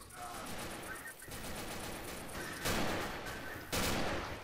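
Gunfire with explosive ammunition in the video game Left 4 Dead 2: a continuous, dense rattle of shots, with two heavier, louder bursts near the end.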